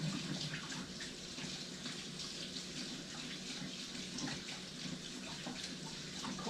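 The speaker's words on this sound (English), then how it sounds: "I'm gonna rinse them off with cold water." Cold tap water runs steadily over tapioca boba pearls in a kitchen sink, a continuous close hiss and splash of flowing water that holds at an even level throughout.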